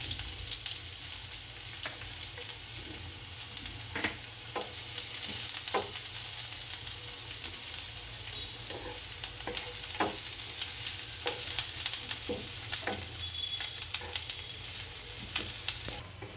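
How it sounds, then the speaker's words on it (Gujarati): Onions sizzle steadily in hot oil in a pan while masala cheese Maggi is being made, with a continuous frying hiss and repeated scraping and stirring clicks from a spatula throughout. Nobody speaks. "આપણી ડુંગળીને આપણે આમાં શેડવી લેશું સારી રીતની"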